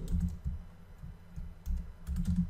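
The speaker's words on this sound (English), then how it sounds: "So I'll type WordPress skills." Someone types steadily on a computer keyboard, the close, soft key clicks coming in uneven bursts with no voices.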